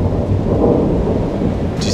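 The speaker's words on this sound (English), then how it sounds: "see that storm rolling in?" Thunder from a storm rolling in over the Yellowstone River, a loud, continuous low rumble with rain-like hiss, sustained throughout and with no voices.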